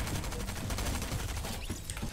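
SMG gunfire sprayed in a Fortnite 1v1 match, heard as a dense, continuous rapid burst of game shots with no pause over about two seconds; no talking.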